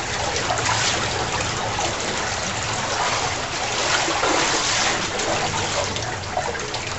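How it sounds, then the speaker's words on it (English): Water rushes steadily at the headwaters of Florida's Hillsborough River, just downstream of the CSX railroad trestle, making a dense, continuous stream-like hiss with no pauses. "what the Hillsborough River looks like downstream from the CSX railroad trestle"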